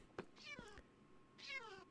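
A Minecraft cat gives two clear, drawn-out meows about a second apart, fairly quiet, with small clicks and game sounds between them.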